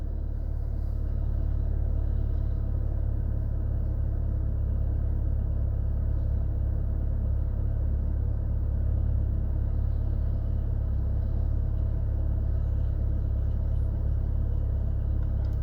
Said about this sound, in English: Let the idle calm down a bit.